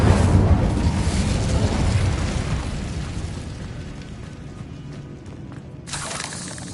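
An Incendio fire spell cast in Hogwarts Legacy erupts as a loud, roaring whoosh of flame that slowly fades over several seconds, with a brief burst of crackle near the end and no talking.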